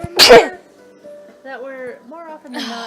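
A single loud, sharp sneeze bursts out at the start, followed by a person talking.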